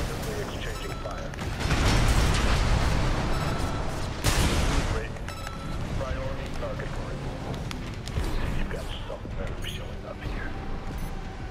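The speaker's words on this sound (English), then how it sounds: "Enemy AC confirmed. Presently exchanging fire." Sustained gunfire and heavy impacts as mechs trade shots with an enemy AC in Armored Core VI, loud bursts early on giving way to ongoing mechanical clatter and firing throughout.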